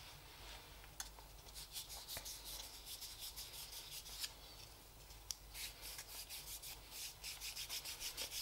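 A linen cloth rubs and burnishes the faceted surface of a carved green-wood spoon, giving close, soft repeated scrubbing strokes with a few light knocks, steady throughout.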